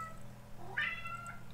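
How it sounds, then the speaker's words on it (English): A cat gives a single short rising meow partway through, quiet and fairly close over a low steady background hum, with no one speaking. "he's meowing"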